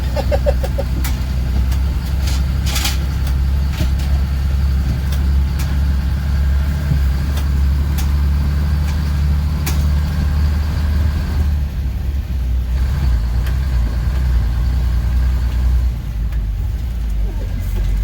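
The engine of a prewar Silversides bus drones and idles steadily through its first drive, a loud and close low rumble with clicks and knocks, as people talk now and then over it.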